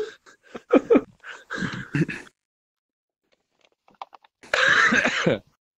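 Several sharp coughs and throat-clearing bursts come close to the mic in a quiet room, first as a ragged cluster and then, after a pause, as one longer rough cough, with no speech.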